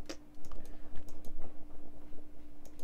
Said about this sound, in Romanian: Îmi pare rău dacă se aude mouse-ul sau tastatura prea tare, dar microfonul e chiar lângă.